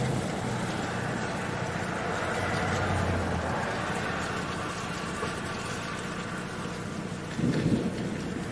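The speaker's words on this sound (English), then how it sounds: "Ooh, listen to that thunder." Rolling thunder rumbles through a Gulf Coast thunderstorm over steady rain, with a louder low boom near the end; the storm sounds fairly close and continuous throughout.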